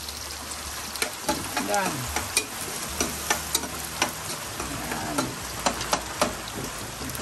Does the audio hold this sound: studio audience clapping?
no